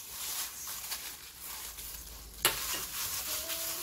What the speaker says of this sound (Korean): 깨를 한 수저 정도 넣어서 이렇게 살살 쭉 비벼주세요.